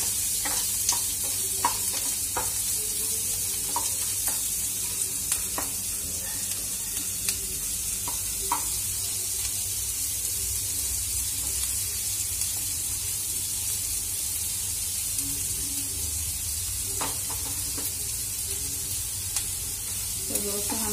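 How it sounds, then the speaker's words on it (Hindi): Sliced onions with garlic fry in a pan for kadhi, a constant close sizzle with scattered stirring clicks and scrapes of the spoon throughout. "प्याज को गोल्डन ब्राउन होने तक इसको भूनेंगे अच्छे से।"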